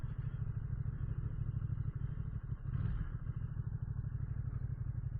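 A big 955cc L-twin motorcycle engine runs steadily with a deep, throbbing low pulse and a rattling, vibrating clatter, heard close up and continuous with a slight swell midway.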